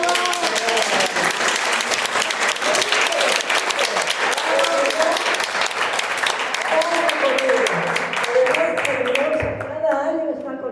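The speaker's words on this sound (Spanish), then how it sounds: "otro aplauso para..." Applause from a seminar audience, many people clapping in a room with a continuous loud rattle that thins toward the end, with a few voices underneath.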